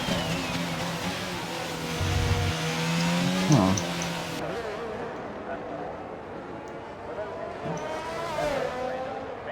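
Race car engine in a Formula 1 racing video game at the Mexico circuit, revving and shifting steadily while warming up its tyres, with short rises and drops in pitch and a brief skid-like scrape, under a commentator's voice.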